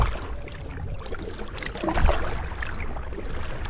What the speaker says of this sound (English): So if I just paddle steady away, doing about 3 miles an hour.